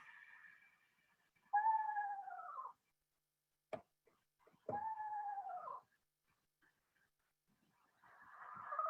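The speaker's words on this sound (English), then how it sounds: "one of them sounds like almost like a horse whinnying to me" An owl gives faint, horse-like whinnying calls outdoors in winter: two wavering, descending calls a few seconds apart, with a brief click between them and another call starting at the end.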